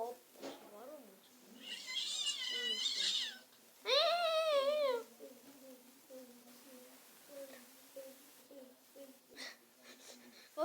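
A cat meows several times up close, drawn-out wavering cries with a wheezy edge, separated by quieter stretches in which a person talks.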